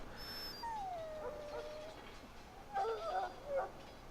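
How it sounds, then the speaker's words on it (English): A dog whimpers and yips in the video game Dragon Age: Origins, thin high whines rising in short bursts, a few drawn-out cries early and a louder cluster of whimpers near the end over a quiet ambient bed. "Now I can treat the dog properly, poor fella."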